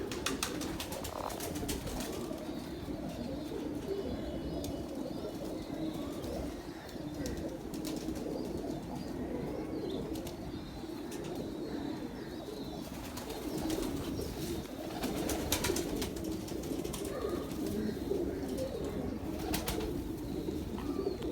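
Pigeons coo steadily in a loft, with occasional wing flaps and soft bird calls over a dense, continuous murmur of cooing; no one talks.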